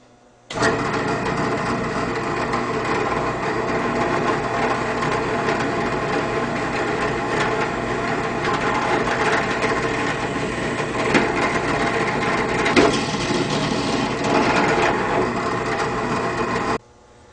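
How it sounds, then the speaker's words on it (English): A continuous whirring drill grinds through plastic pipe for around sixteen seconds, steady and close, starting and stopping abruptly. "we'll just drill a hole right through that pipe"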